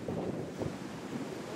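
Ocean water washes against a Hawaii shore in a short burst of rushing surf, close by and mixed with wind buffeting the microphone.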